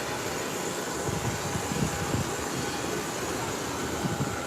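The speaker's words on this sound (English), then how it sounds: "it's a short takeoff because the nose wheel is up. And she's up in the air." An airplane taking off on a short takeoff produces a continuous loud engine roar with rough, fluttering low rumble that swells slightly in the middle and stays sustained to the end.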